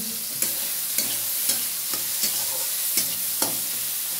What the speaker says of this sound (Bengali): আর আমি এখানে চাটনি বানাচ্ছি, চাটনি, টমেটো তেঁতুলের চাটনি।